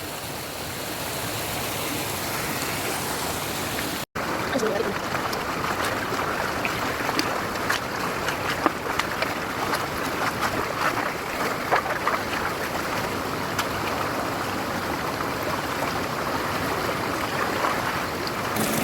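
Spring water runs into a stream below farm fields, making a steady broadband rush that stays loud and close throughout, with a brief cut early on and no voices.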